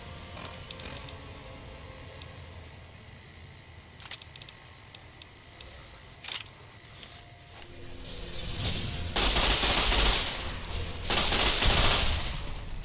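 Heavy weapons fire in the video game Fallout: New Vegas, with scattered shots early and then two loud sustained bursts of gunfire in the latter half, heard close.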